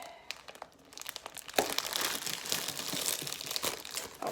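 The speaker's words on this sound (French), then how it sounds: "Alors je suis en train de le déballer" Someone unwraps a crinkly plastic package close by. Dense crackling and crumpling build and continue almost without a break, starting from a few quieter rustles.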